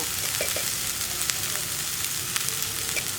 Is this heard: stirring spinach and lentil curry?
yes